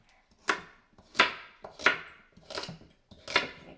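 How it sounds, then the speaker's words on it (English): A sharp knife chops an onion for cabbage rolls, five evenly spaced crisp chops about two-thirds of a second apart on a cutting board, close and clear with no talking. "cut up an onion"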